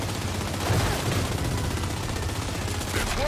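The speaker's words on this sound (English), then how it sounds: "Keep shooting." Rapid gunfire from the Gears 5 Hivebusters expansion pours at a tree, a sustained burst of repeated shots running through the whole stretch at moderate level, with a few faint in-game sounds mixed in.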